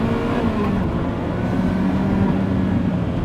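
Ferrari F40 twin-turbo engine from 1989 surging under full throttle as boost arrives, a steady, dense, loud engine roar with a continuous rising drone and no voices.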